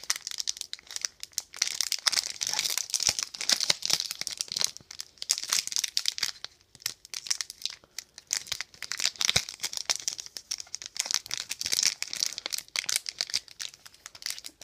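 A Yu-Gi-Oh Mega Pack foil wrapper crinkles and tears open nearby, a continuous run of crisp crackling and ripping sounds with no talk.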